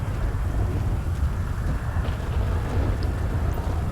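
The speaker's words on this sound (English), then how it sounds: "It is just pissing down rain out here." Heavy rain pouring down in GTA V with the LSPDFR mod, a dense steady rumbling wash with a strong low, wind-like roar and no voices.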